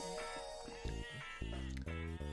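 Sheep in the Lancelot's Hangover video game bleat several times in quick succession, close and loud, over a faint tonal game backdrop.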